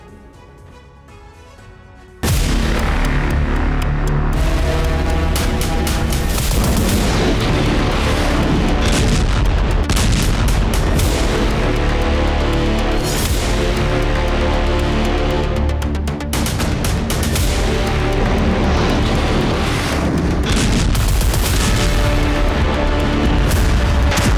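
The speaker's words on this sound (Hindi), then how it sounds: "बाल्टिक से आर्कटिक तक वॉरशिप आग उगल रहे हैं।" Warship artillery booms out in a long barrage of loud, close blasts and explosions, heavy thuds overlapping in irregular rapid bursts with rumbling echoes between them.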